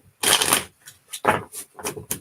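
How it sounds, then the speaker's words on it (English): Tarot cards shuffled by hand at a table, a longer rustling burst followed by several shorter crisp flicks and riffles, close and fairly loud, with no talking. "Just give me a few moments to make sure these cards are shuffled well, Brian."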